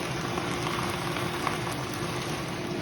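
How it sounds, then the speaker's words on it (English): Taquito meat simmers in a pan with water, giving a steady, close sizzle and bubbling hiss that runs evenly throughout with no voices. "while your taco meat or taquito meat is simmering"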